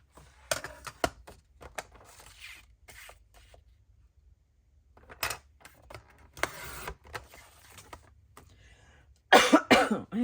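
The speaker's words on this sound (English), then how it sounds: "My cough is still lingering and it does not want to go away." Coughing from a person at a papercraft table, several short bursts spread through the clip with a harsh, loud fit at the end, amid faint rustling and handling sounds.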